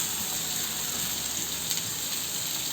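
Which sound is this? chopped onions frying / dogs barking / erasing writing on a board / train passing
chopped onions frying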